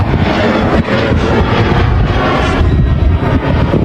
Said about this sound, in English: Hear my airplane.